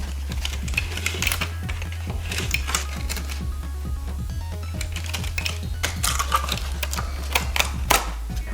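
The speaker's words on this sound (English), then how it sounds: "this one I would definitely recommend using a razor blade and just cutting along the tabs" Razor blade slicing through foam board along its tabs while building an FT Flerken RC plane body, giving repeated short, close scratchy cutting strokes at an irregular pace over a steady low hum.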